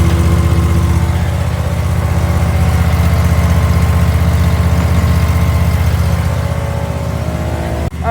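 A riding lawn mower engine runs steadily after a cold start, a loud, continuous low hum with harmonic drone that holds near and constant before a brief thump at the very end.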